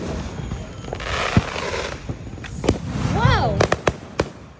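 Fireworks at a 2025 outdoor show burst with sharp cracks and pops, some sizzling and whistling, several quick reports toward the end, while people talk nearby.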